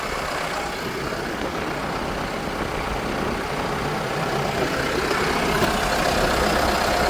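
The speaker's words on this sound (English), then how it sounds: "I'm just pushing it with the grapple right now" A tractor pushes hay with a grapple inside a barn, its engine a steady, continuous drone with no talk over it.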